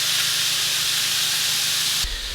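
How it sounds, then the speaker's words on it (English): Chicken sizzles loudly in a frying pan, a dense continuous hiss close up that cuts sharply near the end. "You want to hear that beautiful sizzle, baby. So yeah, we got the sizzle"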